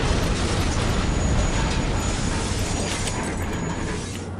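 A loud, dense explosion roars in the shooter game Soldier of Fortune, a sustained broadband rumble that slowly fades at the end.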